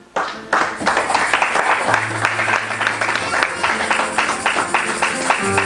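A church congregation bursts into loud, sustained applause and cheering for Jesus, with dense clapping filling the room for several seconds.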